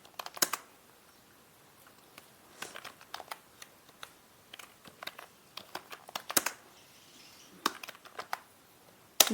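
Light typing on a computer keyboard while entering a name into an Excel cell, sparse clusters of quiet clicks separated by pauses, close and alone.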